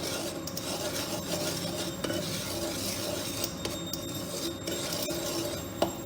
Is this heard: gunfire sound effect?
no